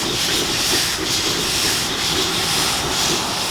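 Heisler steam locomotive number 6, a 100-ton geared engine built in 1929, hisses steadily with a broad, loud rush of escaping steam and faint pulsing underneath, close by and without talk.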